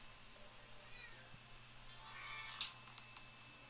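A cat meows once, faint and partly buried under background game sounds and voices, in a quiet room during a PS4 Pro session of The Division 2.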